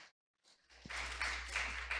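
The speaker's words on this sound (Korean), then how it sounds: "다시 한번 큰 박수 부탁드리겠습니다" Applause from a conference audience after a local journalism presentation, starting faintly after a brief silence, then swelling into steady, moderate clapping over a low hum.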